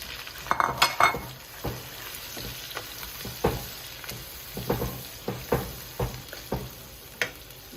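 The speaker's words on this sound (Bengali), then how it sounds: "এখন আমি যে মশলাগুলি রেখেছিলাম এই মশলাগুলি আস্তে আস্তে ওই তেলটার মধ্যে দিয়ে দিব" Spices and garlic, onion and turmeric go into hot oil in a pan for a dried snakehead fish and potato dish, with crisp sizzling, metallic spoon clinks and scrapes in an irregular rhythm, close and alone.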